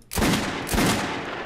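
Pistol shots fired in the video game Metro Last Light, two loud sharp bursts about half a second apart, each ringing out with a long reverberant tail.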